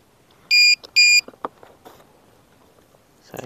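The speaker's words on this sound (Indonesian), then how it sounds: "saya kasih baterai alarm checkernya dulu" An RC plane battery alarm checker beeps when connected: two loud, long electronic tones in quick succession, followed by faint handling clicks and rustling nearby.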